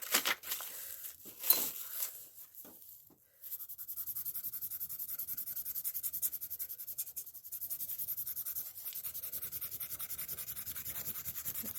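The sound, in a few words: pencil rubbing over paper on dress lace, frottage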